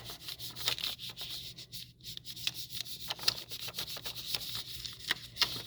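A hand rubs paper firmly across a large rubber stamp to transfer the image onto cardstock, making a close, continuous scratchy rubbing with rhythmic strokes and light taps, without any talking.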